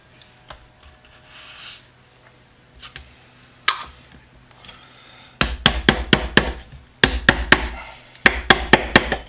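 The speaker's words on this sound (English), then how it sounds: "I'm using my screwdriver as a hammer" A few scattered knocks, then rapid bursts of sharp pounding in quick clusters of four or five hard blows from a screwdriver used as a hammer, close and loud, with brief pauses between.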